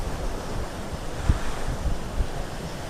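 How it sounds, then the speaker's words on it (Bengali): Large sea waves surge and crash against a river embankment on Mousuni island during a deep depression, a steady loud roar of surf and wind with a few heavier thuds standing out. "কত বড় বড় ঢেউ এসে বাঁধের গায়ে আছাড় দিচ্ছে আছড়ে পড়ছে"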